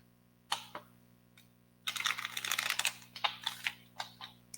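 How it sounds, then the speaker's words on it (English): Tarot cards being shuffled by hand: a couple of soft flicks, then a dense burst of riffling and rapid card snaps, followed by several separate taps, close and fairly quiet over a steady low hum. "Let me go ahead and do a little bit of shuffling here."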